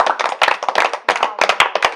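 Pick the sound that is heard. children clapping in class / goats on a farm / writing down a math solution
children clapping in class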